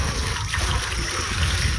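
Irrigation water pours steadily into a flooded rice paddy where seedlings are being started, a continuous close rushing and splashing with no pauses.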